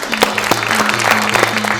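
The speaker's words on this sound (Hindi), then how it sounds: "एक बार जोरदार तालियां हो जाए" A studio audience clapping steadily at a TV show, a short burst of applause with a low tonal hum underneath.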